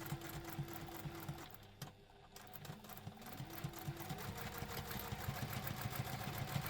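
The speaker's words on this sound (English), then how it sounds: "Now we want to sew this with the seam allowance stated in the pattern" Sewing machine stitching a seam on a wallet at a construction-length stitch, a steady close mechanical whir and rapid needle chatter with a brief pause, then stitching resumes and runs continuously, no talk.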